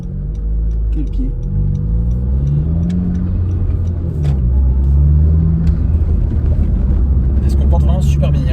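A Honda Civic Type R FK2 drives along with a continuous low engine rumble and road noise, its pitch swelling and easing as it slows under braking, with someone talking over it throughout.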